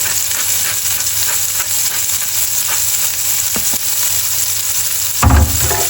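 Steaks sizzle and fry steadily in a hot pan, a continuous crackling hiss with a few sharper pops and a brief louder clatter near the end.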